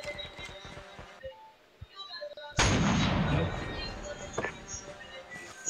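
Gunfire in a Call of Duty battle royale match: a sharp sniper rifle shot cracks loudly midway and trails off with a booming echo, amid game sounds and distant talk.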